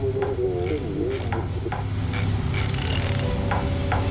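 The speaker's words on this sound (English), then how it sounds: "We'll see if I'm going to be able to lower my landing gear." Landing gear lowering on a bomber in the video game Bomber Crew, a mechanical whirring and ratcheting with repeated clunks under a steady engine drone, moderately loud with a voice briefly talking.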